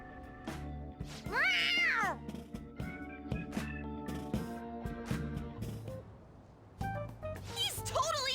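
A cat in the game Persona 5 Royal lets out a rising and falling meow amid background game music, mid-scene in a story sequence, with other game sounds and musical tones around it.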